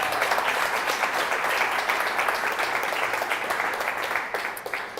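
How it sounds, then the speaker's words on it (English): An audience in a Flint coffee house applauds the sponsors of an evening event, a close, full burst of clapping that holds steady and then thins out near the end. "please give them a round of applause"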